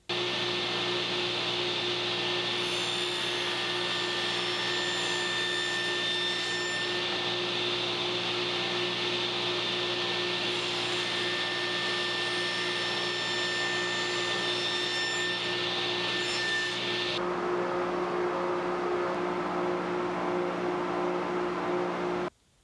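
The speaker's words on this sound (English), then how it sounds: "we are going to cut the miter and work our way back until we're right into this nook right here." Table saw cutting miters in wood boards, a steady loud motor whine with harmonic tones running continuously for about seventeen seconds before spinning down abruptly.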